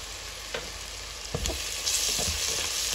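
Chicken curry with garam masala sizzles steadily in a pan, with a few scraping stirs cutting through the loud, close frying hiss; no voices.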